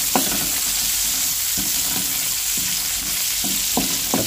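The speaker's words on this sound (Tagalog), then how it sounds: "Yan, gisa na po natin yung ating luya mga kabayan" Ginger and lemongrass sauté in a hot pan with a loud, continuous sizzle, punctuated by a handful of sharp spatula scrapes and knocks at an irregular rhythm, with no one talking.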